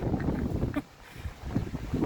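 Gusty wind buffets the microphone outdoors in a yard, a rough, rumbling roar that rises and falls continuously, dipping briefly near the middle before surging back.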